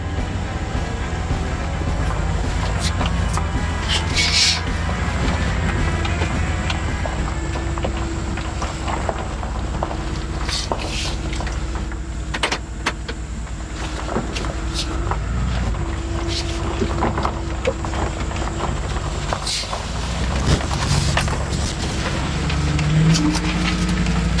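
A Chevy Express van with a freshly swapped 6L90E automatic transmission pulls away on a test drive, its engine droning steadily as it climbs through the gears, with road and cabin rumble running continuously underneath throughout.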